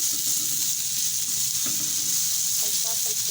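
Garlic frying lightly in a pan for a spicy baghari chutney, giving a steady close sizzle with light stirring scrapes underneath.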